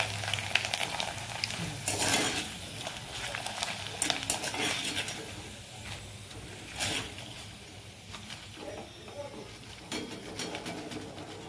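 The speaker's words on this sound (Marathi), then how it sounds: "ते मी सगळे तळून घेते वेफर आणि मग तुम्हाला दाखवते" Homemade potato wafers frying in hot oil give a steady, close sizzle with crackling bursts and occasional clinks of a utensil against the pan, with no talking.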